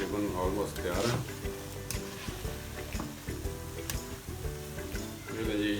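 Potato balls fry in hot oil until golden brown, giving a steady crackling sizzle with occasional stirring clinks, close and moderately quiet, while a person talks over it.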